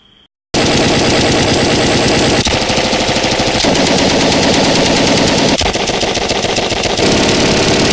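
A gun fires in rapid continuous bursts after a brief quiet start, loud and close, the dense rattling shots running unbroken for several seconds with slight shifts in tone.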